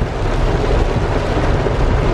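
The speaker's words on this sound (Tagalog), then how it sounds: "Lakas ang ulan." Heavy rain pours steadily on a rural farm during a storm, a dense, loud, unbroken roar with no voices.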